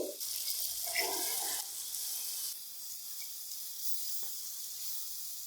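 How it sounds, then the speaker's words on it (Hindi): Boiled white lobia beans fry in masala in a pan, giving a soft, steady sizzle and hiss that fades slightly after the first couple of seconds. "मसाले के अंदर हम लोबिया को 3 से 4 मिनट भून लेंगे।"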